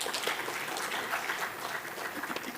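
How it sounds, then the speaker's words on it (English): A steady, fairly quiet wash of crowd applause fills a finance conference hall for the quiz winners and runners-up, continuous and somewhat distant with no talking. "Let's have a huge round of applause for the winners."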